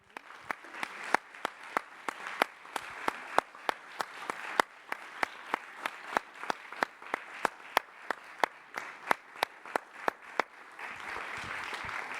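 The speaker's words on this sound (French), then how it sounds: "on va applaudir très chaleureusement Monsieur Denis." An audience at a lecture in the Grande Bibliothèque, Montreal, applauds steadily for several seconds, a dense wash of clapping with sharp individual claps standing out, fading slightly at the end.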